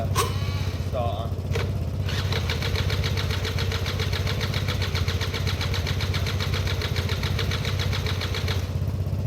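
A Derbi 100cc two-stroke engine with a dirty carburettor, during a starting attempt. It rasps and sputters close up before settling into a steady, loud, buzzing run that fills the whole stretch.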